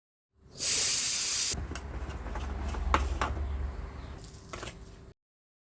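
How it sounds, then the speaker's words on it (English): Pressure in a brake fluid bleeding setup on a 2016 Kia Niro hybrid is let out in a sharp, loud hiss lasting about a second, followed by quieter rustling and handling noises. "so I am going to release the pressure and I can put in the new brake fluid"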